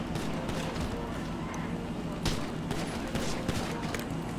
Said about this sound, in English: Who's shooting me, bro?